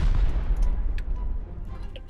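Gunfire in the survival video game Rust, with rapid low booming shots rolling together into a dense burst of fire and a few sharper cracks above the rumble.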